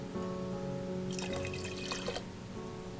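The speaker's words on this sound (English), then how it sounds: "Fill the tomato paste can with water and add that as well." Water poured from an emptied tomato paste can into a pot of pasta sauce, a brief splashing pour lasting about a second over a steady low hum of kitchen background noise.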